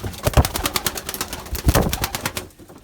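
Pigeons coo in soft, rolling bursts close by, with fluttering and rustling noise throughout and a quieter tail at the end.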